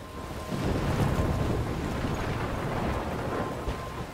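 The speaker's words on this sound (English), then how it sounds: "Oh, it's rain." Rain storm in the video game Life is Strange, a steady broad wash of rain and wind rushing evenly with no one speaking.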